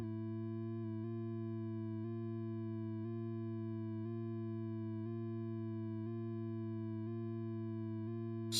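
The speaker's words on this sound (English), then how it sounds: "saw down would be the opposite." Ableton Operator synth with a saw-down LFO gives a steady harmonic drone that pulses in regular cycles about once a second, heard alone without talk.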